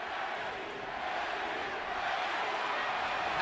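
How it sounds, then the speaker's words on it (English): A large boxing arena crowd roars and chants for Manny Pacquiao during his fight with Erik Morales, a dense, steady wash of many voices building slightly louder. "Pacquiao crowd chanting Manny, Manny, Manny."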